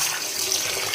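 Running water splashing steadily from a tap, a continuous close hiss of water over meat being washed.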